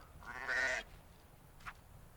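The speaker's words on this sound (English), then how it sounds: "Normal sheep noises." A single sheep bleat in the video game Book of Travels rises clearly, followed by a brief fainter cry, over a quiet, slightly noisy background.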